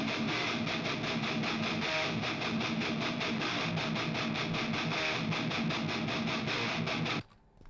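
Heavily distorted electric guitar with lower gain and articulate note definition, mixing palm-muted chugs with ringing open notes, played loud and steady without talk until it cuts off abruptly near the end.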